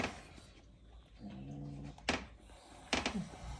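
A Presa Canario dog whimpers with a tonal whine, then gives short sharp growls and huffs close by at a cat, between quieter stretches.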